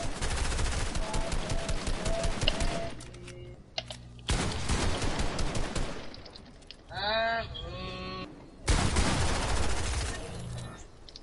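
Rapid gunfire in a 2K video game, loud bursts that rattle for a few seconds each and are separated by short gaps, with a rising whine in one pause.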